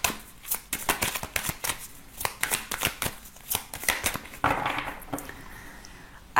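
A deck of tarot cards being shuffled by hand, with close, crisp riffling flutters repeating in quick irregular bursts with no voice over them.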